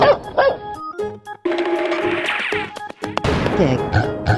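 A dog barks a few times amid cartoon-style effects, with short sharp yelps near the start followed by busier crashing and thumping sounds, with a voice briefly heard.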